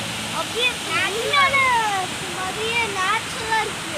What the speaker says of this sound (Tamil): இங்கே பாருங்கள் அப்படியே அருவி மாதிரி ஒரு செட்டப் பண்ணியிருக்காங்க